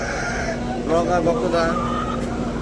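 A brief burst of chicken clucking and crowing-like calls sounds close by at a village market chicken stall, over a steady hum and background noise.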